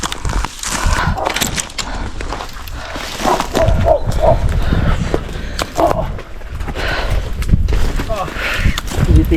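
A dog barks in short, scattered bursts somewhere along a countryside walking trail, mixed with people chatting in French and footsteps.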